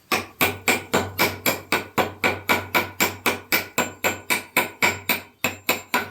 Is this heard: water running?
no